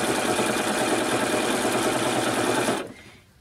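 A sewing machine runs at a fast steady whir while stitching layered quilt fabric, close and loud, then winds down and stops near the end.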